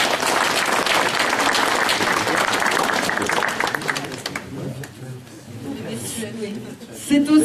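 A village crowd at a 2012 New Year's greetings gathering gives councillor Thierry Jonchère loud, sustained applause. It fades out after a few seconds into low murmuring and speech.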